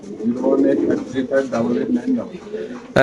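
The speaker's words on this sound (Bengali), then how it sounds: "চলে আসুন তার প্রাণপ্রিয় আদনান ভাইয়ের কবুতর লফটে" Soft, low pigeon coos in a loft beneath someone talking close by, ending in a sudden loud burst of noise.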